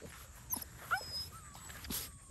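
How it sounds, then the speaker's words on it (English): A doodle puppy gives a few brief, high whimpers and yips, close but fairly quiet, over a faint hum of room noise. "Puppies, puppies, puppies!"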